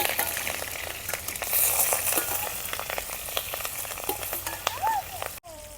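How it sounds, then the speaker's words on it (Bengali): Fish roe sizzling and crackling in hot oil in a pan, a steady frying hiss with frequent sharp pops and occasional clinks of a spatula stirring, close and moderately loud. "এখন মাছের ডিমগুলো ভাজে নিই। মাছের ডিমটা দিয়ে দিলাম।"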